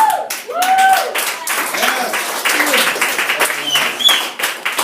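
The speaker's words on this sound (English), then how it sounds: "Clap for yourself." A comedy club audience claps and cheers in a brief, lively burst, with some voices calling out over the clapping.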